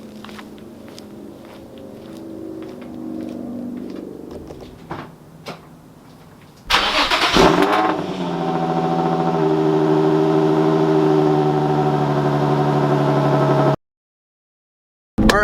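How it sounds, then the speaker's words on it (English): An Infiniti G35 engine fitted with R35 GTR coil packs cranks with a brief burst of noise, then settles into a steady, continuous idle hum that runs evenly until it cuts off. "let's go ahead and turn on the G35 and see how it idles"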